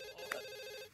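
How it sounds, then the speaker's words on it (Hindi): A landline telephone rings with a single electronic trill, steady and clear against a quiet room. "फोन उठाओ प्लीज, उठाओ."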